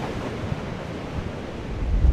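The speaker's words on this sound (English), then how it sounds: "As the sun came up over Porthcawl, so did the wind, hurling waves at the seafront" Storm Eunice winds drive waves against the Porthcawl seafront at sunrise, making a steady, loud roar of surf and wind buffeting that swells toward the end.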